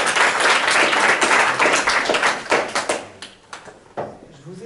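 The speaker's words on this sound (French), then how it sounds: "On peut l'applaudir." Audience applause for a rope routine, a loud burst of clapping that thins out into scattered claps and fades toward the end.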